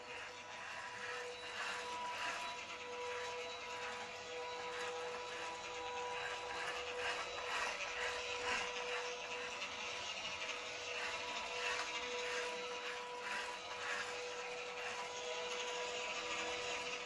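Motors on an omni-wheel balancing robot bike whir and tick with a faint, steady mechanical ratcheting, continuing quietly without any talk.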